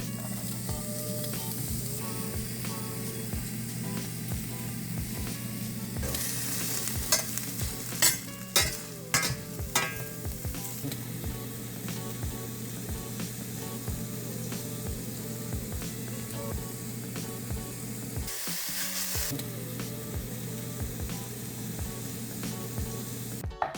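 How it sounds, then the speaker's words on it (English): Olive oil sizzles in a frying pan with a steady, close hiss, broken midway by a cluster of clinking, scraping stirring sounds. "You want to season your pan with that olive oil in there."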